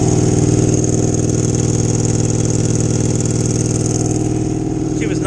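A motorcycle engine runs steadily at idle after a cold start in near-freezing weather, a continuous loud rumble with a fairly even tone across the whole stretch and no voices.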